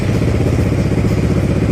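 Yamaha XMAX 250 scooter engine idling close by, a steady, loud, even mechanical chug with a slight clatter that holds unchanged throughout and has no voices over it.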